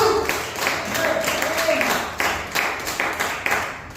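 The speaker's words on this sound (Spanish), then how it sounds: "Dale un aplauso a Dios." A church congregation claps during a Spanish-language sermon, with rhythmic, repeated bursts of hand claps mixed with voices and a sustained tone early on.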